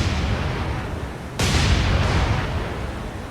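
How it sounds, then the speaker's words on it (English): Naval guns fire star shells during a night battle off Guadalcanal in War on the Sea, one sharp broadband boom cutting through steady rumbling background noise and trailing off into a rolling decay. "Let's get some more star shells down that way."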